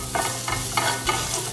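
Garlic sizzling in a saucepan with onion, a close steady fry crackle broken by a few soft stirring scrapes.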